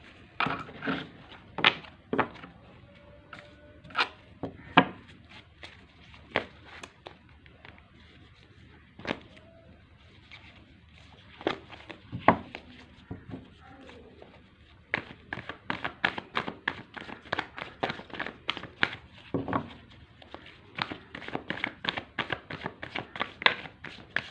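Tarot cards being handled and shuffled during a reading: a run of sharp papery snaps and riffles, sparse at first and then coming in quick, dense bursts, close and fairly loud with no talking.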